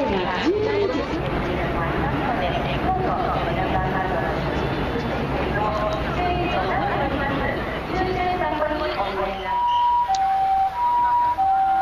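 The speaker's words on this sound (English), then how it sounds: "as the ambulance take away the injured" An ambulance siren at the end of a half marathon wails in steady rising and falling tones, loud and close, over crowd chatter and talk.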